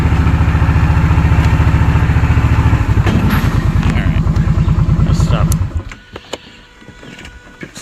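A Kawasaki Brute Force 750 ATV engine idles loudly with a steady low throbbing pulse, then the pulse slows and the engine cuts off, leaving quieter rustling and a faint voice in a wooded setting.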